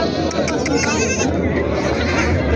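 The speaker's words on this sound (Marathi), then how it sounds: "दोन बोकडे दोन बकरे आहेत मित्रांनो बकरी पण तुम्हाला दाखवतो" Goats bleating at a crowded goat market in Parbhani, Maharashtra, several wavering calls rising over constant loud crowd chatter and nearby talking.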